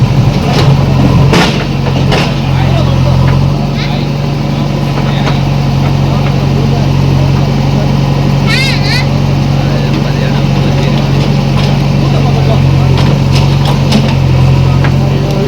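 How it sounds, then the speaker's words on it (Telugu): A JCB and a tractor arriving at a village house site, engines running as a steady low droning rumble close by, with brief knocks and clanks over the continuous idling. "ఇంక అంతలోనే జేసీబీ అండ్ ట్రాక్టర్ వచ్చిందనమాట"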